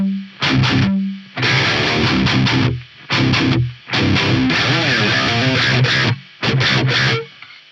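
Electric guitar played with heavy distortion through a noise gate, loud palm-muted chugs in several separate bursts, each cut off sharply to near silence between phrases.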